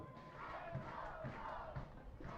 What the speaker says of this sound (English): The crowd getting behind the hometown team here